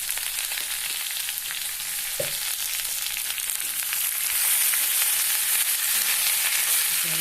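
Masala with cumin and coriander frying in a pan for a hingi (stinging catfish) fry, a steady close sizzle running throughout with one brief knock near the middle.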